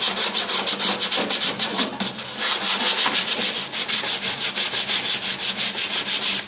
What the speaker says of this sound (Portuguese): Então você pega uma lixa, faz isso aqui, ó.